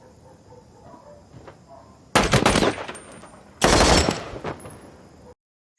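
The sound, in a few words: warning shots from machine gun in TV series Generation Kill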